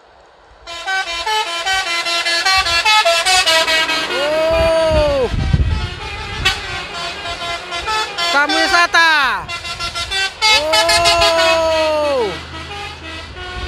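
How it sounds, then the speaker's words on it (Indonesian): Musical telolet air horns on a convoy of trucks, including a heavy truck, honk in repeated rising-and-falling multi-tone melodies, loud and close, with traffic rumble and people talking and cheering in between. "Panen telolet. Truk balak pun telolet."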